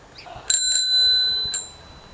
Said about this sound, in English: You found the bell?